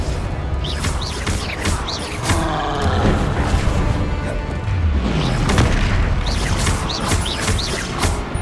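Repeated booming explosions from the Confringo blasting spell in Hogwarts Legacy, loud crashing blasts rolling one after another over a continuous dense rumble.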